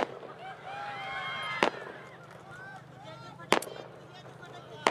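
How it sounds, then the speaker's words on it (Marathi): Firecrackers burst at a political rally in Umarga, Maharashtra, with a few sharp cracks spaced seconds apart over distant crowd noise and whistling fizz, while a speaker addresses the crowd. "हे फटाके जरा"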